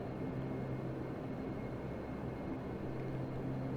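Steady, loud drone of a Q400 turboprop airliner's engines in a flight simulator, a continuous hum with strong low tones running unbroken throughout, no talk over it.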